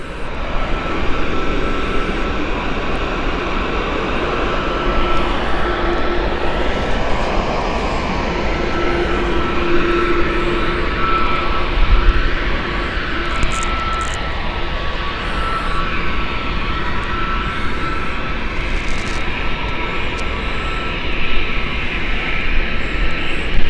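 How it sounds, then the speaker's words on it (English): A WestJet Boeing 787-9 Dreamliner takes off at Gatwick Airport, its engines producing a loud, continuous jet roar with a broad rumbling wash that holds steady throughout, with no talk over it. "has got the preference of takeoff first, and here she is, beautiful WestJet 787-9 Dreamliner."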